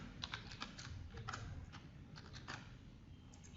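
Keys clatter on a computer keyboard as a Python print statement is typed, a short run of light, quick clicks in uneven bursts, close and quiet with no talking.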